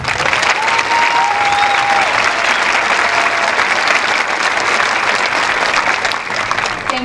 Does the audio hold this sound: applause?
yes